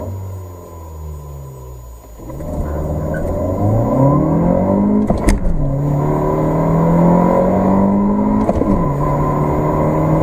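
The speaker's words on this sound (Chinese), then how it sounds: "下面先测下百公里加速" A 2017 Honda Civic 1.5T turbo with a six-speed manual accelerates hard from a standstill to 100 km/h: the engine revs up in rising pulls, a gear change drops the pitch, then it climbs again under steady road rumble.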